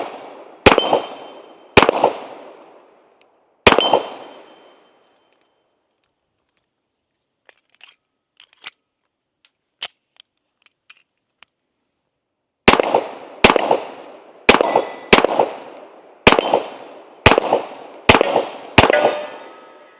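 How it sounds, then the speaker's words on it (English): Sig Series X 1911X pistol chambered in .45 ACP fired in three sharp reports with ringing decay, a pause with faint small clicks, then a quicker string of eight loud shots close by, no talking. "let's go ahead and put a few more rounds downrange with the Sig 1911X 45"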